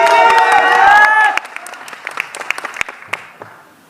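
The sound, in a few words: applause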